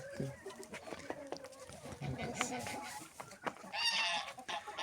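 Chickens cluck and peck around a yard in the first snow of the season, with someone talking close by over scattered soft bird calls.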